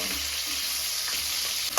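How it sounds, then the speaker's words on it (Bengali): Onions frying lightly in a pan after crab was fried, a steady close sizzle with stirring scrapes throughout and a brief clatter near the end. "এবারে এই পেঁয়াজগুলো আমি হালকা করে ভেজে নেব"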